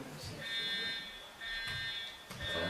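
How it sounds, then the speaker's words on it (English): Smoke alarm beeping in intermittent high-pitched bursts over a busy room, faint and partly masked by people talking nearby. "it's a smoke alarm"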